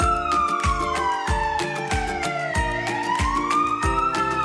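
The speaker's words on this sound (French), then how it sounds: "Camion de pompiers." A fire truck siren wails in a continuous rising and falling tone, loud and close, while a steady rhythmic pulse of beats runs underneath.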